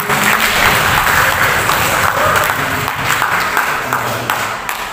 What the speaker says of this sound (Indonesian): Aplaus untuk semuanya.